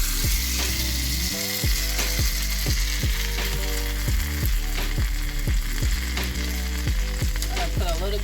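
Stuffed French toast sizzles steadily in butter in a frying pan, a continuous bright crackle running throughout, with repeated scraping and clinking knocks from a utensil.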